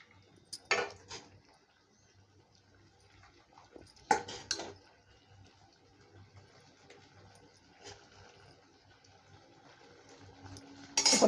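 Steel utensils clink against a plate and pan while paruppu kadayal, a mashed lentil dish, is served up, in a few sharp close taps and scrapes spaced apart in a quiet kitchen, with no talk.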